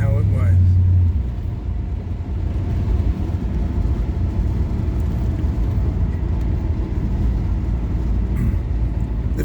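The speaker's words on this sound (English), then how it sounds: "it's nice driving this car with the cowl hood" A 1970 car with a cowl hood drives along, its engine giving a steady, close low rumble throughout, with a brief deeper tone at the very start.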